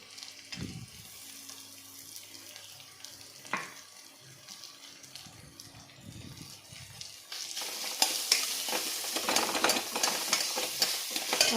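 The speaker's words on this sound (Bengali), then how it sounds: "রসুন বাটাটা দেওয়ার পর আমি এখন অল্প ভেজে নিলাম" Garlic paste fries in oil in a pan after onions, starting as a quiet crackle with occasional stirring knocks, then swelling into a louder, dense sizzle for the last few seconds.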